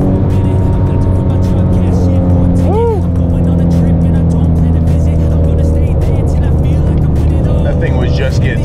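A Shelby GT350 Cobra with a K&N intake pulls hard from inside the cabin, a loud droning engine roar climbing steadily before a quick shift to fifth, with a voice talking over it.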